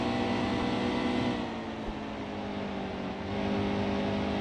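Race car engine in the NASCAR Heat 2 video game, held at a steady high drone with strong harmonic whine, dipping slightly mid-clip and swelling again near the end, loud and continuous with no talk.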